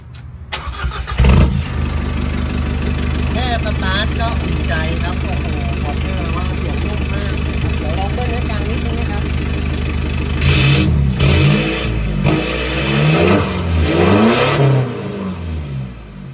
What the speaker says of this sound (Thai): ขออนุญาตสตาร์ทให้ฟังเสียงท่อละกันนะครับ